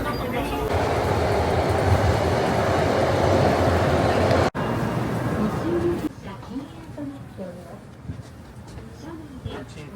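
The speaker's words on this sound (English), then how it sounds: "So we finally made it on the bullet train." A dense, rushing rumble of a Japanese bullet train in motion fills the first six seconds, then drops to a quieter interior hum with faint voices.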